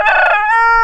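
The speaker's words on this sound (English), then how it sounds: "That is a big stinking rooster." A big rooster crows once, loud and close, a short bright cry that trails off into a held, wavering tone.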